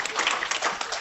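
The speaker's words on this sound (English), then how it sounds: "we have to give them a big applause for trying" Brief, soft applause from an audience after conference presentations, a faint scattered patter of clapping lasting about a second.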